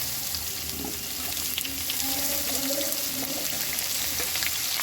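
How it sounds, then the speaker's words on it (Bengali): Onion sizzles in hot oil with bay leaf, dried chilli and cumin seeds, a steady close frying hiss that carries on unbroken throughout. "তেজপাতা শুকনো লঙ্কা জিরে ফোড়ন দিয়ে দিচ্ছি দিয়ে দিচ্ছি পেঁয়াজ"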